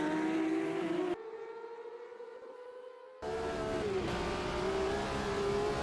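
A 1980s race car engine laps Oulton track in the Automobilista 2 racing sim, droning steady and loud with shifting pitch as it revs, dipping to a muffled, quieter cockpit tone midway before surging back.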